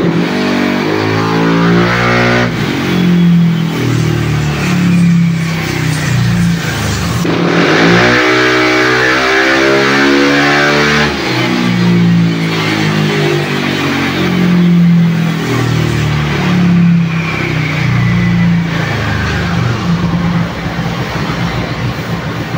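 A motorcycle engine on a dyno revs hard, loud and sustained, its pitch climbing and falling through repeated throttle sweeps, with no talk over it.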